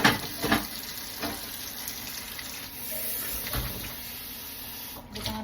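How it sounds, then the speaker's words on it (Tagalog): Water poured into a pan of frying spareribs, a running splash over hot sizzling oil that surges at the start and fades into a steady bubbling crackle, heard up close. "Nya butangan nato gamay tubig."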